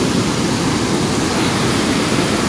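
Glacier meltwater stream below Rakaposhi, a loud, steady rushing roar of flowing water filling the whole moment with no other sounds.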